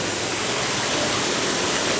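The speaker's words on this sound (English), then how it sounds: "now I'm running this water into here" Water pours steadily from a hose into a fish tank, a close, even hiss-like rush that holds unchanged throughout with no voices.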